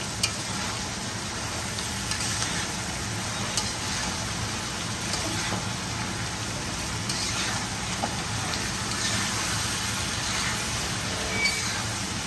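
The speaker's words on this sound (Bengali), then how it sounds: "তারপরে এখন এটাকে খুব ভালো করে নাড়াচাড়া করবো" Food being stirred in a pan during Bangladeshi Chinese-style cooking, with a steady broadband sizzle and scraping that carry evenly throughout at moderate loudness, without talk.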